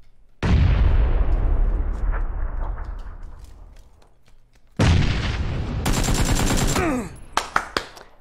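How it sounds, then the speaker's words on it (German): Video-game combat: a loud grenade blast rolls off slowly, then a second sharp explosion gives way to rapid automatic gunfire and a few closing single shots, all close and heavy. "Ich kann übrigens auch Granaten werfen."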